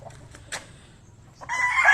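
A rooster among a small flock of backyard chickens: faint clucking and scratching noises, then a loud crow begins near the end, close and clear.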